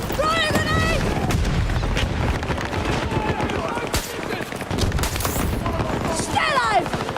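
A video game battle fills with rapid gunfire, bursts and blasts of a fired grenade in a dense continuous barrage, with voices calling out over the combat noise.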